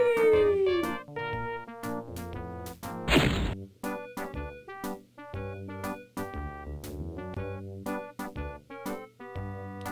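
Dogs howl in the 1995 video game Die total verrückte Rallye: a drawn-out falling howl opens, then bouncy game music with sharp thwacks and one loud crashing burst carries on.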